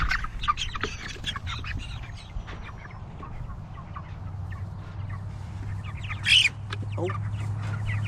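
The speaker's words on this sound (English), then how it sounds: "there's enough chickens there to pull now." Chickens clucking and chattering nearby in a small farm's chicken tractor, scattered calls over a low steady hum, with one louder squawk toward the end.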